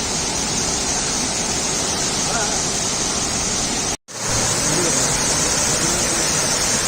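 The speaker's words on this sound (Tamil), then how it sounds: "அருவி கொட்டுதே அடி என் மேல." Catherine Falls near Kotagiri pours down in a loud, constant roar of falling water, a dense unbroken rush heard close, with one brief cutout of sound partway through.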